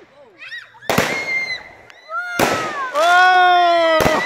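Outdoor fireworks going off in several sharp bursts, each followed by ringing whistles and crackle, with excited voices and cheering between the blasts close by.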